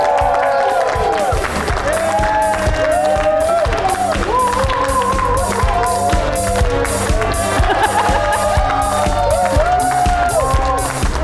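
A studio audience in a television show cheers and claps steadily and loudly, with rhythmic clapping and whoops under a blaring musical fanfare that runs throughout.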